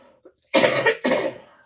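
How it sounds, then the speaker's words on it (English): Two harsh coughs in quick succession, close and loud, preceded by a faint breath in an otherwise quiet space. "I am so sorry for coughing in your ear, guys"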